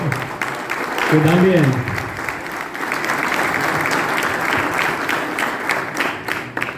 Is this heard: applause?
yes